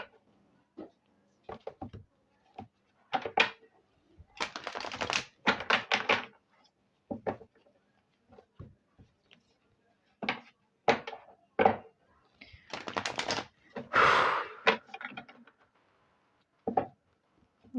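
Tarot cards being shuffled by hand make a series of brisk riffling bursts and soft taps, irregular and close, separated by short quiet gaps.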